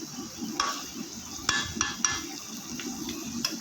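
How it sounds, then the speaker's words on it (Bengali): Chicken coated in curry spices stirred in a pan, with soft scraping and clinks of a spoon against the metal over a low sizzle, several sharper taps standing out. "কিছুক্ষণ আমি নাড়াচাড়া করে নেব যাতে মশলাগুলি চারদিকে ভালো করে চিকেনের গায়ে লেগে যায়"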